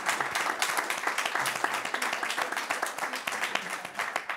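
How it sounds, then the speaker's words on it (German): Audience applause at a film talk during Filmfest München, dense clapping from a crowd that holds steady and fairly loud throughout, with no one speaking over it. "Großartig, großen Applaus."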